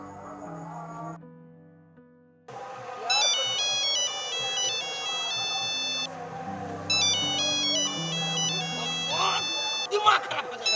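A phone ringtone plays a repeating electronic melody, fairly loud and close, looping several times after a brief quiet tone at the start.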